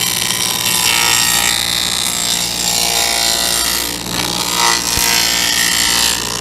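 A table saw blade set about 3/8 inch high and 1/4 inch out from a sacrificial fence cuts a rabbet in wood for a fishing pole rack, giving a steady, loud, close whine that runs the whole way through with little change.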